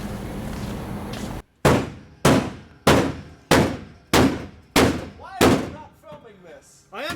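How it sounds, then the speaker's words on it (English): Seven loud, evenly spaced hammer blows strike the floor of a Lemons race car being built, each a sharp, ringing metallic bang that decays quickly, after a brief stretch of noisy background. "We've got the hammer out."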